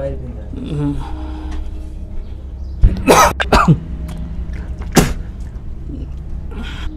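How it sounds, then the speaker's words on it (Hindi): Several harsh, close coughs from smoke inside a cave burst out in a short cluster, followed by one more cough a moment later, with low rumbling background noise between. "धुआं जो हो गया जिस वजह से हमें खांसी होने लगी"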